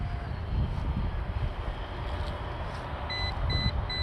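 An FX9672 Darkstar RC plane flying on a quick casual outdoor flight, its electric motor giving a steady continuous drone at moderate distance, with a few faint high beeps near the end.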